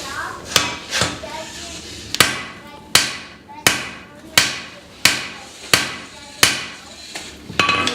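A hammer rings on hot steel against an anvil while a hatchet is forged, about a dozen sharp, evenly spaced strikes, each with a bright metallic decay, close and loud.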